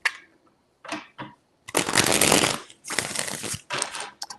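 A new tarot deck being shuffled up close, several short papery riffling bursts with brief gaps, the longest in the middle, and no speech.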